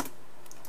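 Fingers tapping a computer keyboard while writing code for an iPhone app, a short burst of a few quick close keystrokes with no speech.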